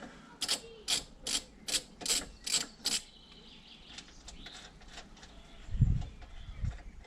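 Ratchet wrench loosening a bolt on a BMW 1 Series strut brace, six or seven quick even clicking bursts, then softer mechanical rattles and two dull low thuds.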